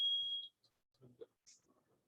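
A phone rings with a short, faint electronic tone lasting about half a second. It is followed by quiet, muffled speech from a nearby voice.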